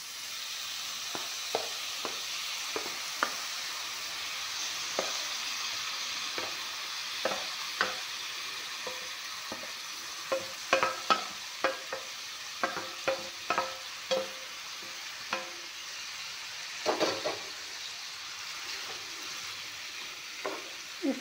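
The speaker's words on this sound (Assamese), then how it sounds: "এতিয়া কোমোৰা জালিখিনি অলপমান ভাজি ল'ম" Pumpkin peel fries in a pan with a soft continuous sizzle, and a spoon scrapes and clicks against the pan in frequent stirring strokes, close by with no voices.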